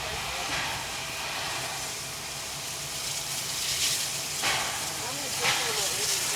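A 59 class steam locomotive stands at a station with a broad, steady hiss of steam. Brief louder bursts come partway through, and people talk faintly in the background.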